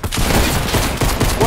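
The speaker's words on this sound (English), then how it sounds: "they got shotguns and shit" Rapid bursts of shotgun fire ring out in a Search and Destroy match of a first-person shooter, several loud, closely spaced blasts crowding a short moment.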